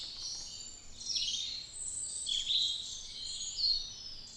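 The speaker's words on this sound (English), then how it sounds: "The birds are chirping a lot louder." Birds chirping loudly at a campground on a bright morning, several high-pitched calls overlapping and rising in bursts, close and fairly loud, with no voices.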